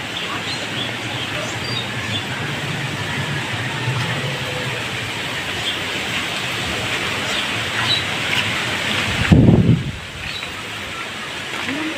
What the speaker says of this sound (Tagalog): kasi malakas yung hangin niya.